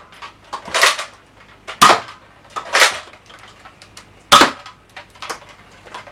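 A Nerf Elite Scout MK II toy blaster fires a series of sharp dart shots at close range, with several distinct loud pops spaced a second or so apart amid lighter mechanical clicks of priming.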